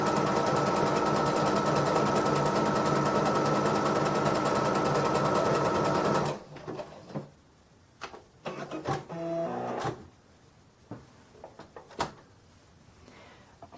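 A Babylock Sophia 2 sewing machine stitches at half speed, a steady loud mechanical whirr for about six seconds, then stops, leaving scattered clicks and handling knocks nearby.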